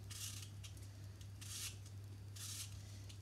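Apples are peeled into a scrap collector, giving soft, raspy scraping strokes that come in three brief bursts over a low steady hum, faint and close.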